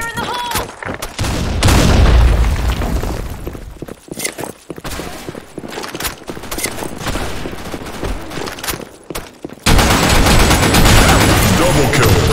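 Grenade explosions and gunfire in a video game: dense, loud bursts of rapid automatic fire and heavy blasts, with a big boom near the start and another sustained burst toward the end, along with some voices.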